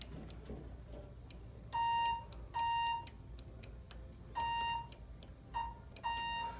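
A ThyssenKrupp hydraulic elevator's floor indicator glitches, electronic beeps sounding in uneven bursts, about six short tones in a stuttering pattern, fairly faint over a quiet background hum.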